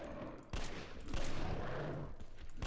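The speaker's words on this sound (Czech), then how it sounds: "tak já se mu pokusím dát headshot" Rapid gunfire in Metro Last Light, a burst of several loud shots fired at a monster while aiming for the head, with sharp onsets at the start and near the end over dense game noise.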